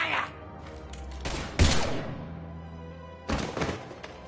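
Gunfire in Mass Effect Legendary Edition, a few sharp bursts standing out from a busy background of game sound and voices, with one loud hit near the middle and another cluster near the end.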